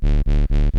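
Heavily distorted Serum sub bass with the drive slammed and mix at 100%, sounding as three loud sustained buzzing notes cut by brief gaps, thick and aggressive with no one speaking.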